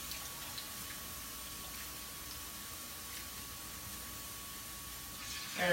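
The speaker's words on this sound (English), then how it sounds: "You can add some water to it to make sure you get everything from your jar." Water poured from a jar into a pan of ginger and chili paste makes a steady, even hiss, which swells into a brief louder splash at the very end.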